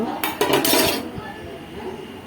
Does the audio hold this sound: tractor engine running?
no